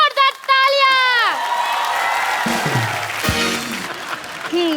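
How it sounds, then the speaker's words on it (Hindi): Studio audience applause and cheering on a comedy show set, loud clapping and whoops swelling after an opening musical sting, with bits of voices mixed in. "इन दोनों के लिए जोरदार तालियां।"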